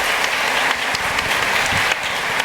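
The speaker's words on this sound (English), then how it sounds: "Give yourselves a round of applause." Dense, steady applause from a packed audience at a book event with YA and adult fiction authors, loud and continuous with no break, a few sharper claps standing out from the wash.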